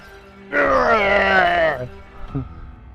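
A boss monster in Trials of Mana lets out a single drawn-out roaring scream, loud and close, lasting about a second. A brief guttural grunt follows after it.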